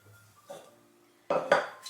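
A pot of just-boiled milk is set down on a kitchen counter, giving a soft scrape followed by two quick, close metallic clanks against a quiet background.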